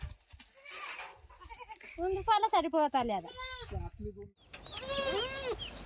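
Goats bleat at a rural goat-rearing farm, several wavering calls overlapping, one long bleat near the end, mixed in with someone talking nearby.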